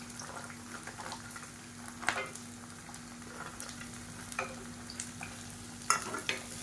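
Pirandai (adamant creeper) and garlic fry in oil with a steady close sizzle, while stirring scrapes and clicks sound at irregular moments across the pan, with no voices.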